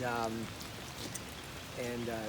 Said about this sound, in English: Today we have flooding rain